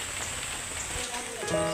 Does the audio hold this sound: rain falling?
yes